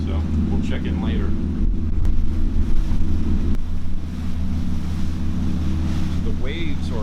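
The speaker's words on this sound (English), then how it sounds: "The waves are a lot smaller today than they were yesterday." Ocean water rushing and sloshing around a Hatteras 58 motor yacht underway in small waves, a steady low wash with wind buffeting the microphone, continuous and fairly loud.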